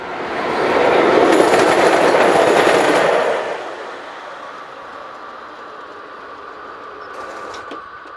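A train hauled by electric locomotives 183043 and 006 roars loudly past a station in a broad rumbling rush, then fades into a quieter steady rolling of wagons with faint wheel squeal.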